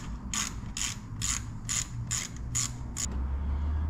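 A ratchet clicks in a steady series of seven or eight crisp, evenly spaced strokes while loosening pipe clamps on a first-generation Cummins engine, close and clear with a low hum beneath.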